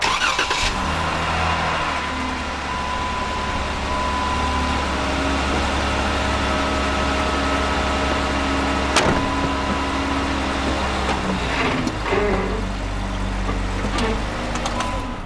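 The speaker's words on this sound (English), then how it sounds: "Now we're driving the Jeep and we're not towing it anymore." A Jeep, freshly unhitched from a Blue Ox tow bar, runs with a steady mid-pitched engine drone while driving, a few brief knocks and rattles over the constant hum and no talking.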